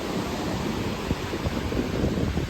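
Waves wash onto a clean beach on the coast south of Narita, Japan, a steady broadband surf rush mixed with wind buffeting the microphone, with no voices.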